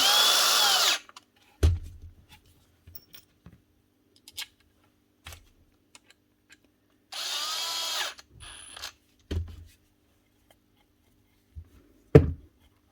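A cordless power tool bolts a Dewalt DCW600 18V trimmer back together: two sharp whirring bursts, one at the start and one midway, separated by quiet clicks and light handling knocks of parts close by.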